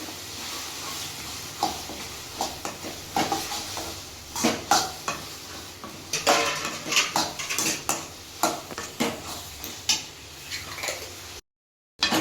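Tomatoes and onions sautéing in a pan for a country-chicken curry, stirred with a spoon in repeated scraping strokes and knocks over a soft sizzle, close and moderately loud, with no talk.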